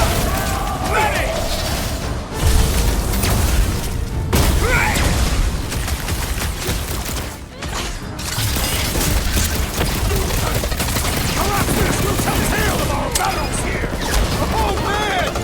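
Dense, chaotic combat in Guardians of the Galaxy on rooftops, with rapid blaster fire, booms and crashes layered over game music and voices talking throughout.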